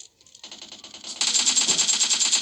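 Rapid automatic gunfire in PUBG Mobile, a fast even stream of sharp shots that starts faint and then grows loud and dense, continuing without pause.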